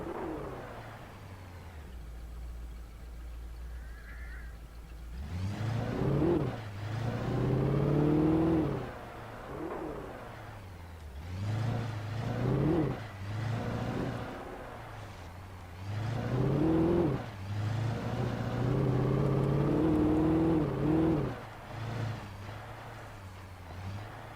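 A car engine hums and revs in repeated surges, rising and falling in pitch with steady low drone underneath, fairly close and loud.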